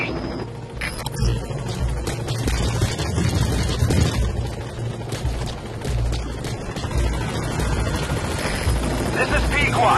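Support helicopter from Metal Gear Solid V: The Phantom Pain arriving, a steady loud rotor drone held for the whole stretch, with busy game sounds and what may be distant gunfire mixed in.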